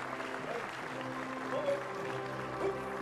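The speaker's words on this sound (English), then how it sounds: "How about another round of applause for former Governor George Ariyoshi and wife Jean" At a Hawaii governor's inauguration, a crowd applauds former Governor George Ariyoshi and his wife Jean. The clapping is a continuous, moderately loud wash with a faint hum and murmur beneath it.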